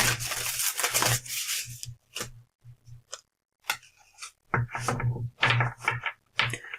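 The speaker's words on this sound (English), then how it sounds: "one more shuffle, and I think we'll get a card" Bursts of crisp riffling and flicking as playing cards are shuffled, with short pauses between the shuffles and a faint hum underneath.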